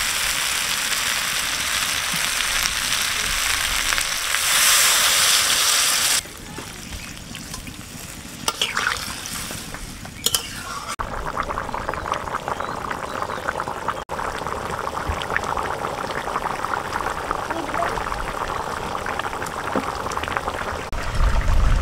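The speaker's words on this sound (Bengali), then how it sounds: "আমি এবার পরিমাণ মতো জল দিয়ে দেবো" Water poured into a pan of browned local chicken curry sets off loud hissing sizzle and bubbling frying, then a steadier simmering crackle that continues to the end, with no talking.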